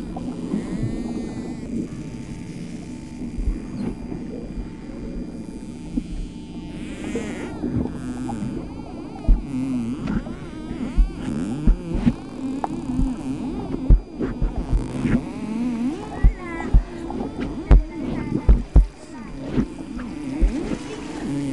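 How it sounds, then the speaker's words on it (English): A dolphin in a therapy setting gives low-pitched vocalizations over a steady droning hum, with repeated throbbing pulses and short clicks building through the middle and end. "This is the sound that you have heard several times now, that is very low for dolphins."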